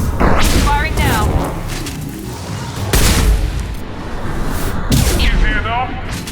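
Gunfire and heavy blasts from Mass Effect 2, with loud booming bursts near the start, around three seconds and again near five seconds, over a continuous roar and game voices.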